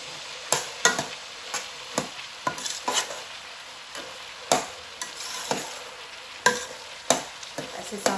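Grated carrots for gajar halwa stirred in a pan over high heat, a spoon scraping in irregular strokes over a steady close sizzle, with no talking.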